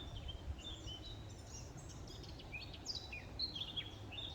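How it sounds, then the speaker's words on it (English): Faint, scattered blackbird song whistles over a soft outdoor rumble, the melodic phrases coming and going at a distance. "Listen to this blackbird which is up in there somewhere"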